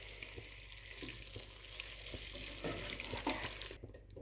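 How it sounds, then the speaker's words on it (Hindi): Potatoes sizzle in a karahi over a low flame as lemon juice is stirred through, with frying hiss and scraping stirs, then a brief lull near the end. "2 टीस्पून लेमन जूस, इसको मिक्स करेंगे।"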